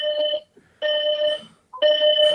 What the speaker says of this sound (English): Is that the fire alarm? Is the place on fire?